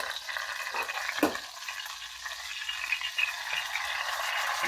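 Chapli kabab frying in oil in a pan over medium heat, a steady close sizzle and crackle with a brief clatter as the patty is turned.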